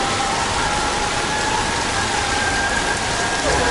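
A heavy rain downpour pounds a Christmas market in Alanya, Turkey, as a loud, dense, unbroken roar of rain on surfaces with no voices.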